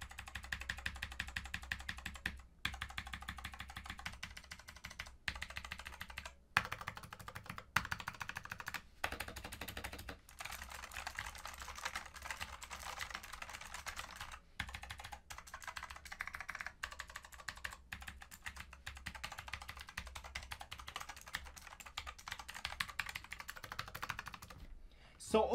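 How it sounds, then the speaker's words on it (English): Typing on a Royal Kludge full-size wireless hot-swappable keyboard with stock blue switches, a quiet, continuous run of sharp clicky keystrokes in quick irregular bursts with short pauses, close to the microphone. "we're gonna go ahead and check out the sound on these switches. Like I said, these are the blue switches."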